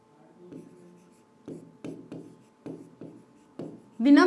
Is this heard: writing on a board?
yes